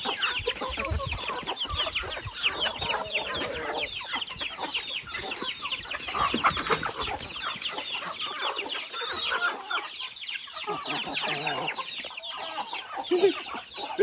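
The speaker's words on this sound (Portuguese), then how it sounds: "Quero ver a reação do galo." Rooster and other chickens clucking and calling at a rural smallholding, a dense, continuous chatter of overlapping bird calls throughout, fairly close and steady in loudness.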